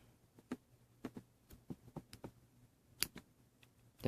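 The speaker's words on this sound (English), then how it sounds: "scissors not sharp enough" Several sharp, separate snips of dull scissors cutting Spectra fishing line, close and fairly quiet, spaced irregularly over a few seconds with no talking.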